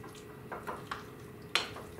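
A spoon stirs corned beef into a thick Reuben dip in a bowl, a few soft scraping and clinking strokes close by with one sharper knock, no talking.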